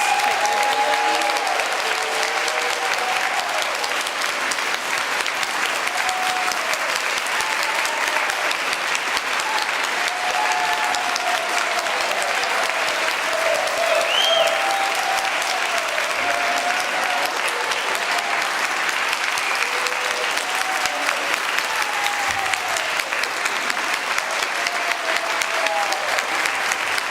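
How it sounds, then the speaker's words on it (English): A congregation at a sunrise Easter-season Mass breaks into a long, loud round of sustained applause that fills the space without letup, with a few voices rising above the clapping. "can we just give another humongous round of thank you and applause to everybody"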